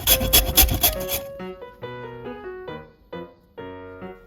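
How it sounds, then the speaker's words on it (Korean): Two potatoes being julienned with a knife give a quick run of dry, rasping cutting strokes for just over a second. Tonal, musical notes follow and carry the rest. "채 썰어 줄게요."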